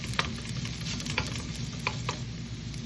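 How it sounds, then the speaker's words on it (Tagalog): Garlic and onion fry in a pan for sautéed bottle gourd with sardines, giving a steady close sizzle with a few light scrapes of stirring and no talk. "Hintayin ko lang yan na medyo luto yung bawang at sibuyas."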